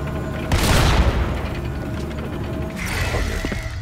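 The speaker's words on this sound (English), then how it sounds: "I just heard a lot of bombs, and I didn't want to deal with that right now" Bomb explosions in Fortnite: a heavy booming blast about half a second in rolls on as a rumble, then a second, lighter burst follows near the end, loud and with no talking.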